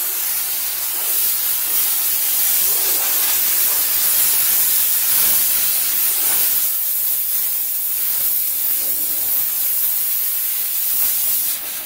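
A loud, steady hiss of a Chief Steamer 125 PSI steam cleaner spraying a salt-covered car continuously, with slight surges and dips in the rushing sound throughout.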